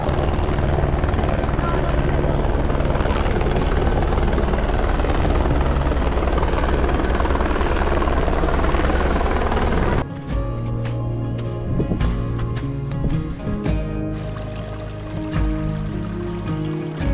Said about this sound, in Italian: Non vorrei che questo elicottero fosse per quello.